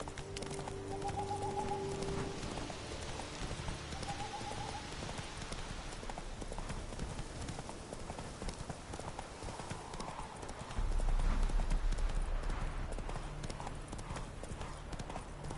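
Roach the horse's hooves trot in a steady clip-clop through a video game scene, with faint bird calls and a low background hum, ending under a louder rumble near the end.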